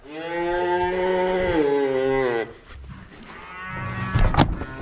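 Cattle and calves in a cowshed moo loudly and close by: one long, drawn-out bellow, then softer, shorter calls and shuffling.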